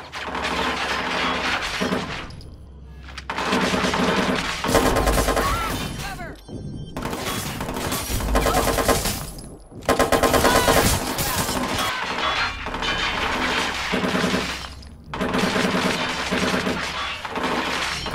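Sustained gunfire from a Skorpion submachine gun in the video game Watch Dogs 2, loud dense bursts with brief pauses, mixed with crashing and breaking game sounds.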